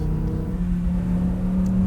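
A 2018 Lamborghini Huracán Performante engine drones steadily and close, a low growling tone holding throughout with no clear rev rise or fall.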